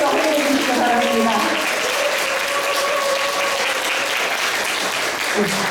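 Audience at a Korean book concert applauds steadily to welcome the author onto the stage, a dense, sustained round of clapping with some voices mixed in near the start.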